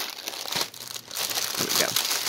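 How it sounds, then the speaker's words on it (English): The plastic bag of a pre-stamped cross stitch kit crinkles loudly and continuously close by as it is handled and opened. "Just set the bag aside, because it's terribly crinkly."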